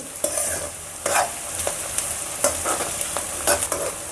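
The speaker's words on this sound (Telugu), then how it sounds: "చూడండి వేగుతూ ఉన్నాయి కదా, గోల్డెన్ బ్రౌన్ వచ్చే వరకు వేస్తూ ఉందాము." Ingredients for a chicken curry fry until golden brown while a spoon stirs and scrapes the pan in repeated strokes over a loud, steady sizzle.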